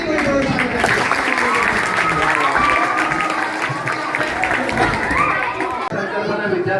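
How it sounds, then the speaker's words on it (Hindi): A school event crowd claps steadily with chatter mixed in, the applause dense and sustained throughout before easing slightly near the end. "तालियां ऐसे बजाओ कि सामने वाले को होश आ जाए"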